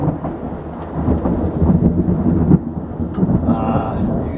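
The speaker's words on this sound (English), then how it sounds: "It is a rainy, stormy night here" A nighttime thunderstorm with steady heavy rain and a low rolling rumble of thunder, loud and enveloping, with a brief higher tone near the end.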